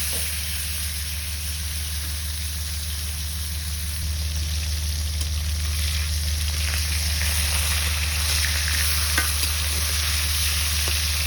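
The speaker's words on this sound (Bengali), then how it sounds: "হালকা করে ভেজে নেব।" Food fries lightly in a pan during old-style village cooking, a steady even sizzle with occasional faint stirring scrapes, close and continuous, no voices present.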